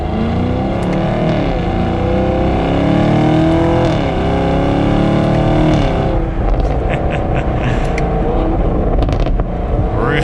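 A 2021 Chevrolet Camaro SS 1LE exhaust roars loud and close under hard acceleration, the engine note rising through gears with steady rumble and a brief lift before climbing again, with no talk over it.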